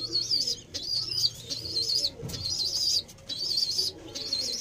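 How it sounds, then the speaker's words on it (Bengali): High-quality pigeons of an old bloodline in a loft, repeated soft cooing and chirps in bursts over a low background, with brief wing flutters, close by. "High quality Payra."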